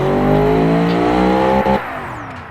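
A GT4 race car engine of about 697 horsepower in the BeamNG video game revs hard with a high, steady, buzzing whine, then suddenly drops off and fades to a lower idle.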